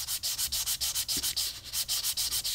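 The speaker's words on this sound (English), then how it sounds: "The abrasive should be doing almost all the work" A reed being sanded by hand with abrasive, quick even back-and-forth rasping strokes in a steady rhythm, close and fairly soft, with no voices.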